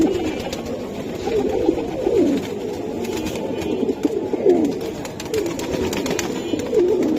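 Giribaj pigeons cooing, a steady chorus of overlapping low, warbling coos from several birds close by, continuous and moderately loud with no voices.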